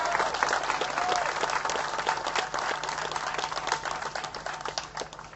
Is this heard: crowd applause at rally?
yes